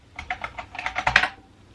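Quick burst of typing on a computer keyboard, about a dozen close, crisp key clicks in an uneven rhythm, ending in a slightly louder flurry with no voices.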